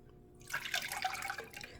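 Water dripping into thickening yellow mustard while it is stirred, a brief cluster of soft wet splashes and bubbly liquid sounds, close and faint.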